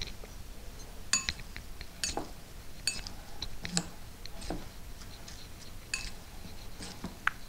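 Spoon mixing fresh tomato salsa in a bowl, with scattered light clinks and taps of utensil against the dish, fairly close and irregular, over quiet room noise and no talking.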